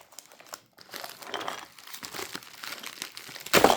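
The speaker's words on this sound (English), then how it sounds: "I have a knife. Let me cut it." Knife cutting open a package box, crinkling and scraping of tape and packaging in short bursts, close by, ending in a loud sharp rip.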